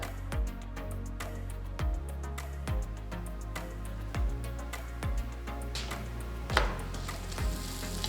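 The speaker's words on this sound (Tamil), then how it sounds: "தவாவை சூடு பண்ணி தவா நல்லா சூடானதும் ரெடி பண்ண பராட்டாவை போட்டு ஒரு பக்கம் வேக விடுங்க." A cauliflower gobi paratha cooks on a hot tawa with a steady close sizzle, soft dull thumps recurring at a regular pace beneath it, and no talking.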